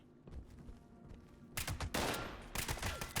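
Gunshots from the video game Fallout 76, a cluster of sharp broadband cracks and bursts coming in quick succession, loudest in the second half, with no talking.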